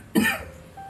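A person coughs once, sharp and close, during a tasting of inexpensive bourbon, with a short rough burst that trails off quickly into a quiet room.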